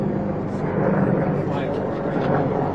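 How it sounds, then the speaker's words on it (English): A steady, loud rotor-like rumble of a helicopter passing overhead, continuous throughout with no pauses. "Can we let this helicopter go over?"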